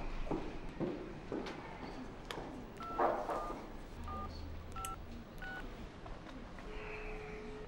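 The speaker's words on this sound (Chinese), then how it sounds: "快打电话吧。" A telephone number being dialed, a series of short clear keypad tones spaced out over several seconds, with faint handling noise and movement between presses.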